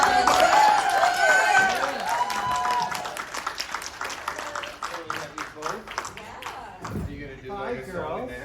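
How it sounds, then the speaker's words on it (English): Audience applause at a Sons of Anarchy convention panel in Chicago, loud clapping and cheering from a large crowd while voices talk over a microphone, the clapping gradually breaking into scattered individual claps. "Round of applause."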